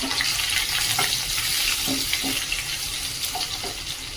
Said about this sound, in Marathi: सगळं व्यवस्थित असं परतून घ्यायचं